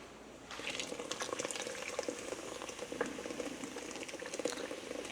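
Water mixed with a can of Busch apple beer boils steadily in a pot for cooking crab, a close, continuous bubbling and popping with no voices.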